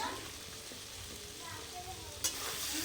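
Spiced potatoes with chilli powder sautéing in a pan, giving a soft, steady sizzle with occasional light stirring scrapes and one sharper clink near the end, faint and without talk.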